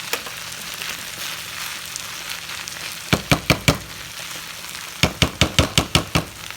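Leftover rice frying in a hot pan for tripe soup, a constant crackling sizzle broken by two quick bursts of sharp knocks as a utensil raps against the pan, close and clear with no talking.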